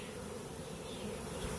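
Honey bees from a package pour into a hive, a dense, continuous buzz of many insects close by, with no talk.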